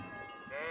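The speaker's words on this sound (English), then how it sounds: "Oh, God, waking up with a sheep. Sheep! Sheep, come back!" A sheep bleats in the medieval video game Kingdom Come: Deliverance, one short, wavering, nasal cry heard close and alone.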